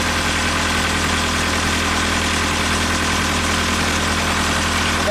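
A Perkins diesel engine on a Genie lift runs at a steady idle, a loud continuous rumble with mechanical vibration close by and no voices.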